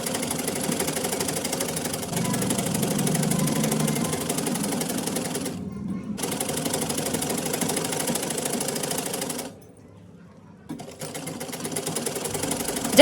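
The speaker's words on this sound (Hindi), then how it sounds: "अब कपड़े को बिल्कुल फोम से मिलाते हुए फोम पर फोल्ड कर देना है और इस पर जो है सिलाई करनी है।" A sewing machine stitching fabric folded over foam to finish a salwar hem, running in a steady, close mechanical whir that pauses twice briefly before starting again.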